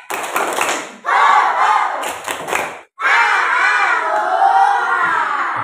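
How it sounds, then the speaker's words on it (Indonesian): Schoolchildren in a classroom perform a rhythmic group spirit clap at the start of a lesson, with several rapid bursts of clapping and chanting voices, a brief pause, then a sustained loud unison shout. "sebelum kita mulai belajar, mulai dengan tepuk semangat dulu ya"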